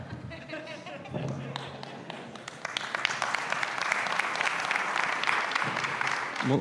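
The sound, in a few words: audience applause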